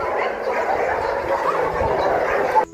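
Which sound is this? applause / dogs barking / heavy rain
dogs barking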